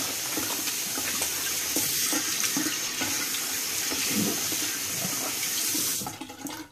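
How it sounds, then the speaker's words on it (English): Water runs steadily from a sink tap while hands are rinsed, a close continuous rushing splash that shuts off near the end. "I'm going to rinse my hands off."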